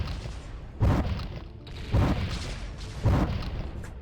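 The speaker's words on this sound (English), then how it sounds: "Explosions." Three dull booming explosions from the Aquaterra Mech Wars video game thud at roughly even intervals, moderately loud over a rumbling background.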